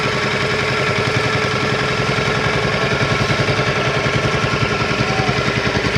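A boat engine idles close by during flood relief, a loud steady chugging with a regular pulsing throb throughout and no other sounds over it.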